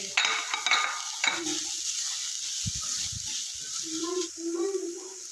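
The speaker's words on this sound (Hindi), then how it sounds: "इनको स्टर फ्राई करना है। साथ ही मैं इसमें शामिल करूँगी चिकन जो हमने मैश किया हुआ है बॉईल करके।" Vegetables and boiled, mashed chicken stir-fry in a pan for chicken vegetable soup, giving a soft sizzle with scraping stir strokes and light utensil clinks, a quiet voice audible underneath.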